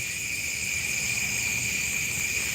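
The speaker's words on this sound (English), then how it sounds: "Oh, yeah. Crickets, yeah." Crickets chirping outdoors in a steady, dense high trill with layered tones, continuous and fairly loud over a faint low background rumble, with no talking.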